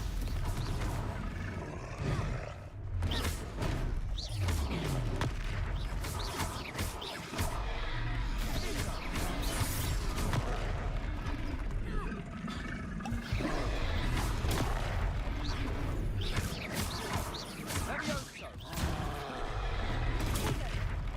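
In the Hogwarts Legacy video game, Confringo blasting spells set off repeated loud booms and bursts over a dense, busy battle soundscape, with blasts recurring irregularly throughout.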